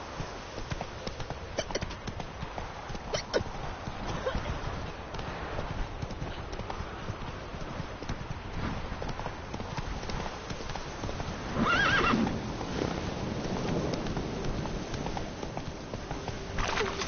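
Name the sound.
horse Roach galloping and neighing in a video game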